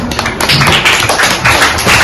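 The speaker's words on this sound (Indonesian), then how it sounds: "Tepuk tangan dulu" Children in a classroom clap together, a loud, close, busy patter of many small hands lasting a couple of seconds without talk.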